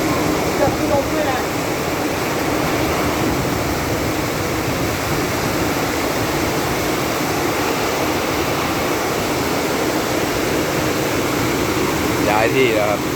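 Heavy rain pours down in a dense, unbroken hiss and roar that stays loud and steady throughout, with no pauses or voices over it.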